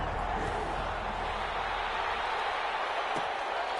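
Home crowd at an American football playoff game, a steady broad roar of cheering that fills the whole stretch, continuous and fairly loud without distinct breaks.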